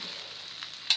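Meatballs sauté for seblak in a pan, giving a brief, faint, steady sizzle with a small clack near the end.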